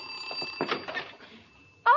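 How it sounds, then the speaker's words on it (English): A bright electric bell at a house's back door rings steadily in the background while faint voices and movement are heard, then a louder burst of ringing closes the moment. "Mother, the back door's ringing."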